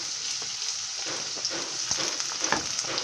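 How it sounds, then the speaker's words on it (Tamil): Finely chopped onions with green chillies frying in hot oil for a masala pasta, giving a continuous bright sizzle with scattered crackles and pops, close up with no talking. "இப்போ இந்த வெங்காயம் வந்து நல்லா வந்து வதங்கட்டும்"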